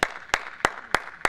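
A single person claps five times at a steady, slow rhythm, sharp and close, in a legislature chamber during a regular session; no voices are heard.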